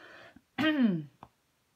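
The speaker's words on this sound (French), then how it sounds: "Pardon, je vais tousser." A single harsh cough close by, preceded by a brief bit of voice and followed by a faint click.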